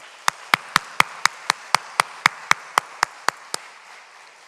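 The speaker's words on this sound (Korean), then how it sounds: "다시 한번 우리가 뜨겁게 박수하시기 바랍니다." A church congregation claps in unison, about thirteen sharp, evenly spaced claps in a steady rhythm before stopping, against a quiet background.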